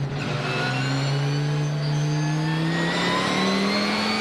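Race cars, including a Viper and a Vicora, rev and accelerate together at the start of a race at the Assen circuit, a loud, sustained engine roar that climbs steadily in pitch, close and continuous with no talk.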